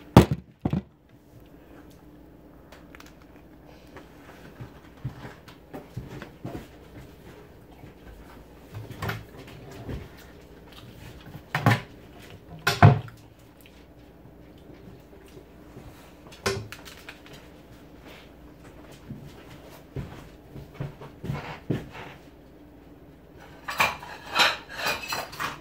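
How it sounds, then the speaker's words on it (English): Plastic and dish clatters, light knocks and a cupboard bump as a blender bottle is taken out of a cupboard come in scattered bursts, close and fairly quiet, with brief pauses between handling noises. "pull my blender bottle out"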